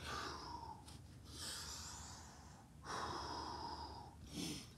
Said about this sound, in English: Focus on my breathing